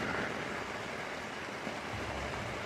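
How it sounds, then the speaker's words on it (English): Steady broadband hiss of rain falls continuously throughout, fairly quiet and even, with no voices or other distinct sounds. "It's raining."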